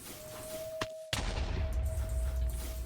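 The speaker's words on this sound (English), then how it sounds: "I could try and see if I can hit it with this explosion" An explosion in Minecraft, played with the Valhelsia 6 modpack, lands as a sudden sharp blast followed by a sustained low rumble, after a brief hush and a faint click just before it.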